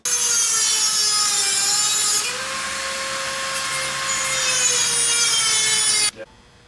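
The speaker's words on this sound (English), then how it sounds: "we're going to cut all 8 bolts off, just right at the nut" A power cutting tool slicing through a bolt right at its nut: a steady loud high-pitched whine with a grinding edge, sustained for about six seconds before cutting off abruptly.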